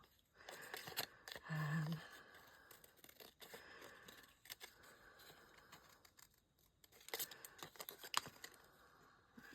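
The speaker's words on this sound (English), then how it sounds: "I will show you what I mean in a minute once I've finished cutting this out." Paper being cut with scissors at a crafting table while making a junk journal page: quiet, intermittent snips and rustles with short pauses, no talking.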